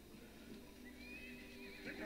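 A horse neighs and whinnies at moderate volume in the video game Lord of the Rings: Battle for Middle-earth, over a steady background hum, with faint clip-clop of hooves.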